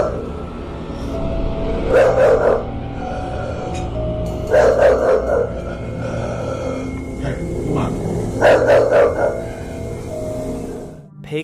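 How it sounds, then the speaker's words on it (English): A dog barks in three loud bursts, each a cluster of several sharp barks with low growling tones, set against a steady background hum that continues between outbursts. "the dog keeps barking straight at a dark cloud, almost as if it notices something within it."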